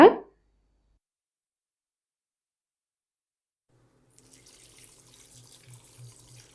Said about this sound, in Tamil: தண்ணி ஊற்றி நல்லா ஒரு 3 தடவை நல்லா அலசி எடுத்து வச்சுக்கோங்க